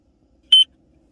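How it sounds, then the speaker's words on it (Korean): One short, sharp, high-pitched beep from a carbon monoxide alarm inside a car set up for overnight car camping, loud and close against near silence. "일산탄소 경보기를 달아놨고요."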